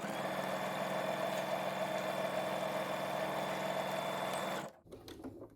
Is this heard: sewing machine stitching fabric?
yes